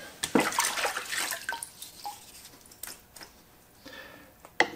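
Water splashes and drips close by as a Shapton glass sharpening stone is rinsed, starting with a louder splashy burst and then thinning to scattered drops and trickles, with no speech.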